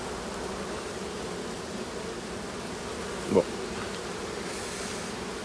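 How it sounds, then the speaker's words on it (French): Bees hum in a steady, low, continuous drone around a beehive in poor condition in late July, with one short spoken word and a brief closer buzz partway through. "C'est les abeilles qui vont crever là."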